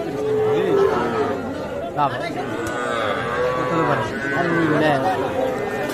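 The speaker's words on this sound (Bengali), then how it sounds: "এখানে একটা ছোট শাহিওয়ালের পার্সেন্টেজ ওয়ালা ষাঁড় বাছুর দেখছি আমরা" A small Sahiwal-cross bull calf at the Ambari cattle market gives drawn-out moos, close and loud, over a constant crowd of people chattering nearby.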